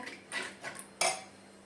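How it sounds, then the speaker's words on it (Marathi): A spoon clinks and scrapes against a metal pot while gram flour is stirred into green chickpeas, giving a few distinct, close metallic knocks and scrapes, with the sharpest hit near the end. "पीठ घालून व्यवस्थित मिक्स करून घेऊया"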